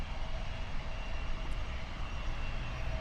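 Jet airliner engines roaring at Toronto airport, a steady, fairly loud sustained rumble and whine that holds evenly throughout with no talking.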